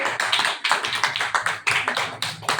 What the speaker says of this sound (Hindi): एक बार 5 लाख वाली ताली तो बजा लीजिए